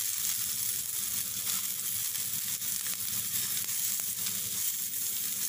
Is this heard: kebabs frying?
yes